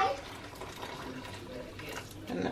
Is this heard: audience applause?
no